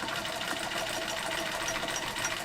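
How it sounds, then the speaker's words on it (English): A sewing machine stitches a rag quilt with a rapid, even mechanical whir and chatter, steady and close for a couple of seconds, no voices. "I sew about 1/4 of an inch inside the rag cut"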